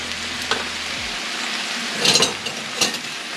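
Pork and shallots fry in a pan with a constant close sizzle, broken by a few brief stirring scrapes.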